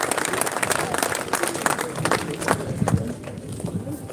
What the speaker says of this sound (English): let's give one big last cheer to the trawlerman out on the sea over there